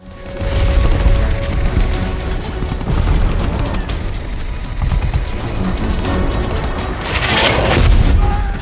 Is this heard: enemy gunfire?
yes